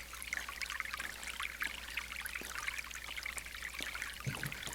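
A forest stream flows over rocks and fallen branches and tree trunks, a steady soft trickling and babbling that carries on without pause, fairly close and at moderate volume, with no voices.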